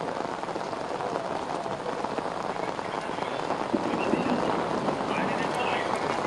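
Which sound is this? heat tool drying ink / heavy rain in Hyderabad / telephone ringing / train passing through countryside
heavy rain in Hyderabad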